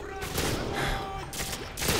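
Video game gunfire in Modern Warfare 2 Spec Ops, a dense burst of rapid automatic shots with sharp cracks, loud and close, while players talk in Finnish.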